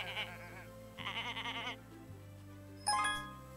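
Sheep in the Summer in Mara video game bleat in drawn-out, wavering calls, two clear bleats followed by a brief chime, fairly soft against a low steady background tone.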